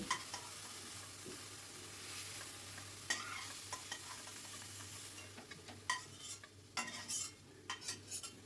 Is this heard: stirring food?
yes